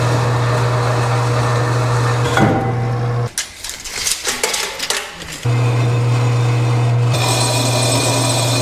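A power tool cuts through 2x2 square aluminum tube sections for a custom Land Rover LR4 tray-back ute bed, a loud harsh grinding cut of about two seconds amid a steady motor hum.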